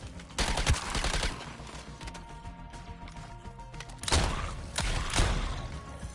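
Bursts of video game gunfire from Suicide Squad: Kill the Justice League, with loud volleys near the start and two more heavy bursts near the end, a busier stretch of action sound in between.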